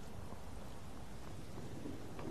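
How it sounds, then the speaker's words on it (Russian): Steady heavy rain pours down in Skyrim with a low rumble of thunder rolling underneath, continuous and fairly loud throughout. "Мне не нравится дождь. Путешествовать в дождь — это не круто."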